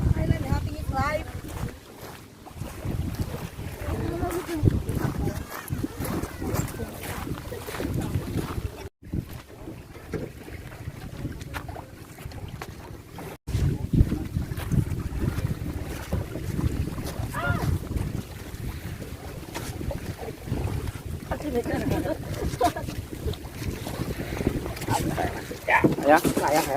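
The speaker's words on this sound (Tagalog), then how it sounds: "Magbo-boat kami, boat ride, tapos island hopping." A boat motors across open sea with steady engine rumble, wind buffeting the microphone, and waves slapping, while people talk over the noise, island hopping off the white beach at Buruanga, Aklan.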